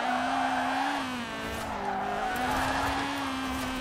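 A front-wheel-drive car drifting in Forza Horizon 4, its tires giving a close, sustained squeal that wavers slightly in pitch for a few seconds without a break.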